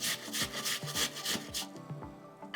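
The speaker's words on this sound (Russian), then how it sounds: "Поэтому я рекомендую натирать на крупной терке." Vegetables being shredded on a coarse hand grater for a salad, a run of rhythmic rasping strokes, close and fairly loud, that trail off toward the end with no talking.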